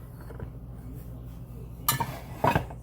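A cooking pan is set down on a stovetop, giving two sharp metallic clanks close together near the end of a quiet kitchen stretch, after a few softer taps earlier on.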